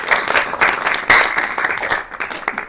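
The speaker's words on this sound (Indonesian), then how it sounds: "beri tepuk tangan ke dewonya" A classroom of students applauds a classmate, a dense burst of many hands clapping together, close and lively, tapering off toward the end.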